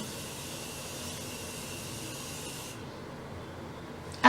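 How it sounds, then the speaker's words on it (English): A continuous fine hiss of an aerosol spray held for a few seconds, then cutting off into quiet, ending with a brief click. "I love this spray."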